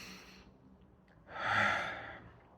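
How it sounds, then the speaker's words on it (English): A slow, deep breath, first a soft drawn-in inhale, then a longer, fuller exhale that swells and fades, close and quiet with no talking. "Just breathe."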